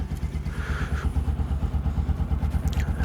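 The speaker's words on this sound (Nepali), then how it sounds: "काठमाडौँमा बाइक स्टार्ट गर्न चाहिँ गाह्रो हुँदैन रहेछ" Bajaj Pulsar NS200 motorcycle engine, a loud close single-cylinder idle with a steady, rapid low thumping pulse and light mechanical clatter, running alone without voices.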